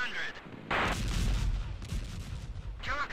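Gunfire in the Cold War combat game Operation Flashpoint: Cold War Crisis, heavy booming bursts that come in waves over about three seconds, with a voice briefly heard at the start and end.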